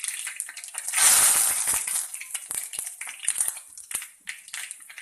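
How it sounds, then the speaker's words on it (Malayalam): Mustard seeds crackling and spitting in hot coconut oil with curry leaves tossed in, a sudden loud burst of sizzling and popping that settles into scattered sharp crackles nearby. "അല്പം കടുക് പൊട്ടി തുടങ്ങി നമുക്ക് അല്പം കറിവേപ്പില അതിലേക്ക് ഇട്ട് കൊടുക്കാം"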